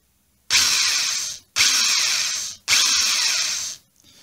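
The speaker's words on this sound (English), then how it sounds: "And I've drilled until I can just start to see ebony dust coming out" A power drill whines three times in long, steady bursts, drilling side marker dot holes in an ebony guitar fretboard, each a couple of seconds with short pauses between, close and fairly loud.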